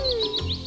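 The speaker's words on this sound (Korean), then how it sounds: "와, 아름다운 새소리." Birdsong in a garden: repeated high, bright chirps in a quick rising-and-falling pattern, close and fairly loud, with no voices over it.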